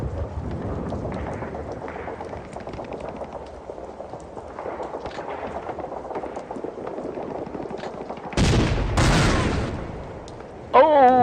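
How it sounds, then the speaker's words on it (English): Tank guns fire in the wargame Steel Panthers: World at War. Low rumbling game sounds run underneath, then two loud, close bursts of gunfire break out near the end. "let's see the tanks get any shots here."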